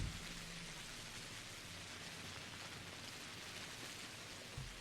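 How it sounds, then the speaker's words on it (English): Steady rain from the video game Pathologic, a continuous dense hiss of falling drops with no voices, even and unbroken from start to finish. "listen to the rain"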